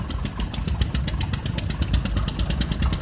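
Single-cylinder tractor engine running during a parade lap at a steam rally, a close, steady, rapid thumping beat with sharp regular exhaust pops and no talk over it.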